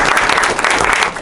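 Dense, loud applause from an audience at a Long Island lobby day gathering, steady and sustained throughout with no break.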